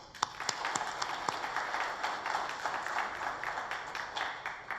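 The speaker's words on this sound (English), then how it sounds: "This calls for a big round of applause to our government." Conference attendees at a telecom event in India applaud, a steady round of clapping with a few sharp individual claps standing out near the start, sustained throughout.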